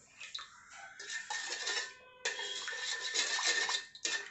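Salt and cardamom powder stirred into flour in a bowl, heard as close, steady scraping and ticking of a utensil against the bowl in two long runs with a short pause between, no voices.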